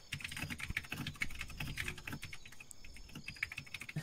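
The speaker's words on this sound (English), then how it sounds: "You can see one of your privates has a typewriter with him." Typewriter clacking in the video game Arma 3, a quick, irregular run of close key strikes with a few brighter dings, fairly quiet and alone.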